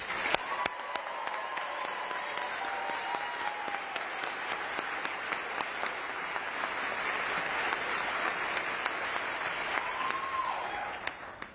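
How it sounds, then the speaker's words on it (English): Audience applause at a NASA astronaut candidate ceremony fills the room, a steady wash of many hands clapping at moderate distance with no break, quieter and even throughout. "please join me in giving them another round of applause."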